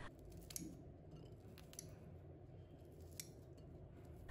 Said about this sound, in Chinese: 把它剪成小块